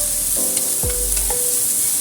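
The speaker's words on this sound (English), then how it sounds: "Then we add in salt. Stir fry." Celery stir-fried with salt in a wok, a loud, close, continuous sizzle with a few brief stirring scrapes over two seconds and no voices.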